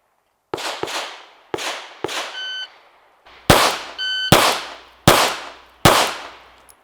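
Handgun shots fired at a small target on an outdoor range: nine sharp cracks in quick uneven bursts, loud and close, each trailing a short echo, with a brief electronic beep midway.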